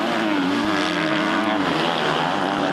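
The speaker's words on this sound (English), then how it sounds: "Listen to Herlings revving the engine on that KTM as he goes uphill." KTM motocross bike engine revving hard uphill during an MXGP race at La Bañeza, Spain: a continuous loud, buzzing engine roar throughout with no break or pause.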